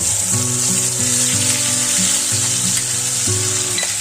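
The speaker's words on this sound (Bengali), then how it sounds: "পেঁয়াজ ব্রাউন কালার হয়ে আসছে আমি যে ব্লিন্ডারে মশলা মেটে নিলাম এখন দিয়ে দিচ্ছি" Loud, continuous sizzling of blended spice paste hitting browned onions frying in oil for a hilsa and mustard dish, a dense frying hiss with a few stirring scrapes underneath.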